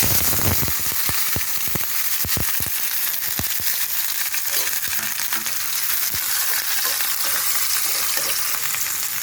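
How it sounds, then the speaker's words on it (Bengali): Dried red chillies and chopped onions hit hot oil with a loud, dense sizzle and crackle, punctuated by sharp spatters and pops, continuing close and steady throughout. "আমার তেলটা গরম হয়ে গেছে এখন আমি এর মধ্যে দেবো দুটো শুকনো লঙ্কা আর দেবো পেঁয়াজ কুচানোগুলো"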